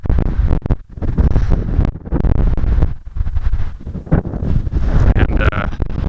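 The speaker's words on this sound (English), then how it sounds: "it's chilly and super windy" Strong, gusty wind roaring against the microphone on a chilly mountaintop near San Diego, loud and buffeting with brief lulls between blasts.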